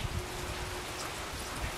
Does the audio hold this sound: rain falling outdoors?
yes